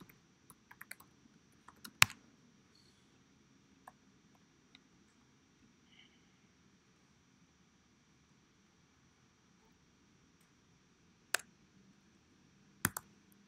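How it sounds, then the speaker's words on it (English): Sparse, faint keyboard clicks from students typing on computers in a quiet classroom, with short bursts and a few sharper taps separated by long stretches of near silence. "Is everybody done typing, by the way?"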